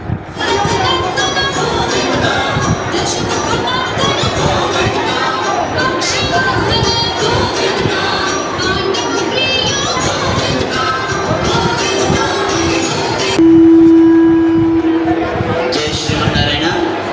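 A large crowd fills a hilltop temple festival with dense murmuring chatter and bustle, with a loudspeaker announcement and someone talking close by over the din.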